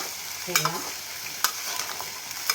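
Black chickpea sundal being stirred in a kadai, soft sizzling under a few sharp scrapes of a spoon against the pan, close and steady with no talking.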